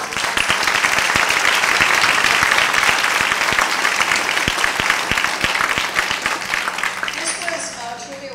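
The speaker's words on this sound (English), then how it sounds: "I think you need a round of applause." An audience at a school dedication ceremony breaks into a loud, sustained round of applause, dense clapping that thins out near the end.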